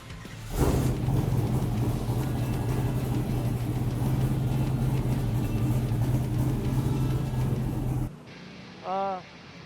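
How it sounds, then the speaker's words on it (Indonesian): A muscle car's engine catches with a sudden roar and settles into a loud, steady idle for several seconds before cutting off abruptly, followed by a brief short tone. "Saya coba nyalain mesin ya."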